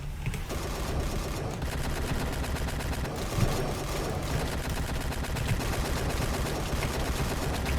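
Rapid, relentless flurry of punch impacts from a barrage attack in a Minecraft JoJo mod, a dense machine-gun-like stream of hits continuing loudly for several seconds without pause.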